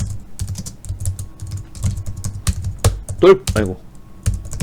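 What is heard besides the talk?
computer keyboard typing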